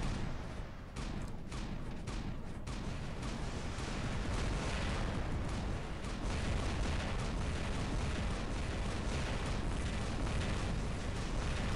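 Lumbus splash weapons in the War Robots game firing and exploding in a continuous rapid barrage, a dense, steady roar of blasts and booms that lasts throughout with no pauses.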